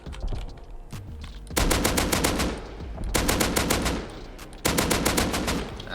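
Rapid automatic assault rifle fire in the video game Rust, in three loud sustained bursts separated by brief pauses, with a low rumble underneath.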